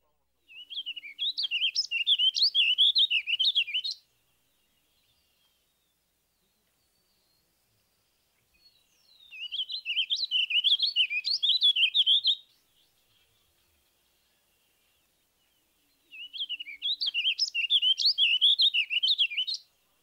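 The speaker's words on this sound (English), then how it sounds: "Next, the evenly measured tempo of the warbling vireo." Warbling vireo song in an evenly measured tempo, three distinct phrases of rapid, rolling warbled notes separated by silences, close and clear.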